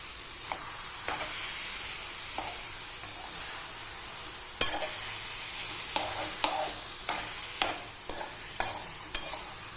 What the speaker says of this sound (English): I'm going to stir it in.